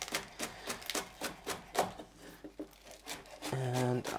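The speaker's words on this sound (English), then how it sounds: "let's just quickly slice up these spring onions" A knife slices through spring onions on a cutting board in a home kitchen, giving quick, light, evenly spaced chops. The cuts are soft and close, with someone talking partway through.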